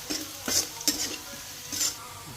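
Ingredients with green chilies fry in a pan under a soft sizzle, broken by a few quick scraping strokes of a stirring utensil.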